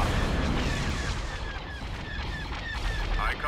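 Rapid space cannon and laser fire from capital ships in Star Wars: Empire at War, Clone Wars mod, during a raid on Christophsis, sounding as dense overlapping booms under a constant roar, with repeated short zaps every half second or so.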